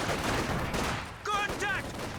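Squads trade small-arms fire in a Company of Heroes 2 battle, a steady, dense crackle of distant shots that carries on throughout, with voices calling out partway through.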